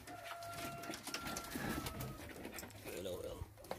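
Pigeons cooing inside a coop, soft repeated coos close by, with a voice talking quietly over them.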